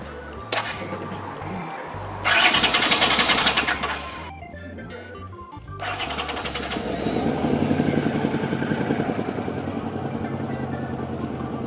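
A motorcycle's starter whirs in short bursts, then the engine catches and settles into a loud, steady close-up idle with a mechanical rattle.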